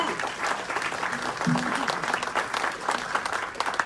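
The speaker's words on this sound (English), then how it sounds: "A round of applause for Pack 332." A city council meeting audience applauds a scout pack, a steady wash of many hands clapping at moderate distance, fairly soft and even, with faint crowd murmur beneath.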